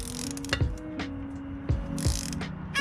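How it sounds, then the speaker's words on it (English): A ratchet clicks in short repeated bursts while loosening a bolt on a Suzuki GSX-R600 motorcycle, close and crisp with metallic knocks between strokes. "We had to switch to a smaller ratchet to be able to get it out."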